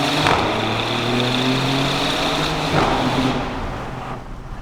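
A new Maserati GranTurismo engine pulls hard on a canyon road, giving a dense, steady drone that holds near and loud for several seconds and then eases off and fades toward the end.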